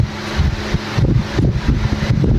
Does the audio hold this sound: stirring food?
no